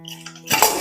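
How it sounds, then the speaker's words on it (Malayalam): A pressure cooker lid is opened after cooking beef vindaloo: a faint hum gives way to a short metallic clatter and rustle of the lid coming off, brief and close. "ഇപ്പൊ കുക്കർ തുറക്കാൻ പോവാണ്."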